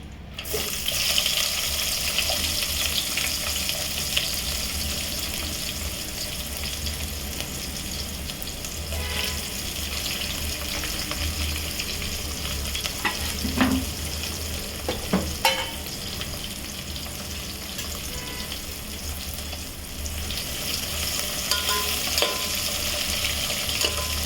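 Onions frying in oil in a pan while being stirred for a bitter gourd gojju, a constant close sizzle with scraping spoon strokes and occasional clinks, no talking.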